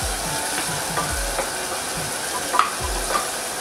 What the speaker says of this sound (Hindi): टमाटर के सॉफ्ट होने तक मसाले को भूनेंगे